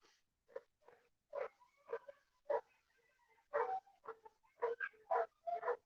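Dogs bark in the distance at a backyard, with repeated bursts that grow denser and louder toward the end, as if the pack is getting closer. No one speaks.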